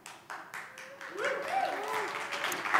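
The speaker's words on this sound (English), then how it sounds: "I wasn't expecting that applause" Audience applause at a Bond 2018 tech conference talk, starting with a few scattered claps and swelling into a moderate crowd clap, with a speaker's voice running over it.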